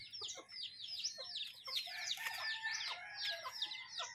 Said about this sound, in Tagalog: Yan lang guys, ang manok guys